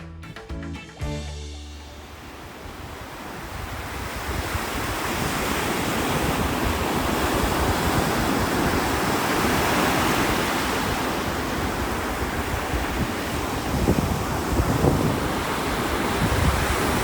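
Ocean surf rolls onto the beach at Saint George Island, Florida, a continuous loud wash of breaking waves mixed with wind buffeting the microphone, with no one speaking.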